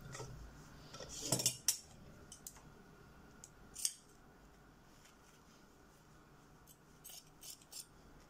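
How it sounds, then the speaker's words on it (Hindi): Scissors snip through cloth while a neck yoke panel is cut for stitching, giving a quick burst of sharp metallic snips close by, then a lone snip, then sparse light clicks. "कपड़ा काट लेंगे।"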